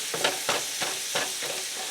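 Onions and bratwurst sizzling in sunflower oil in a frying pan, a steady hiss with a few stirring scrapes at a rhythmic pace, close by and fairly loud.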